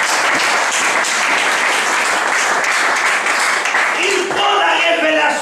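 A church congregation applauds steadily, dense clapping filling the space from start to finish, with a few voices and cheers rising over it near the end.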